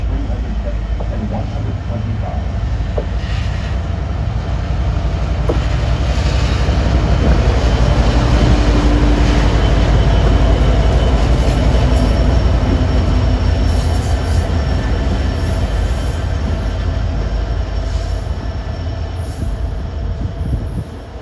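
Caltrain local commuter train with its engines passing close trackside, a loud steady rolling roar of wheels on rail with squealing, sustained for the full length and alone without talk.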